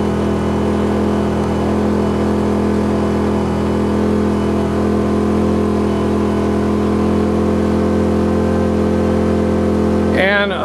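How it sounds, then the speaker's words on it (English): A tri-fuel generator with a fuel gas adapter runs on biogas, giving a loud, steady engine drone with a constant hum throughout before a brief disturbance near the end. "Depending on what kind of load you put to the generator, you can extend that run time."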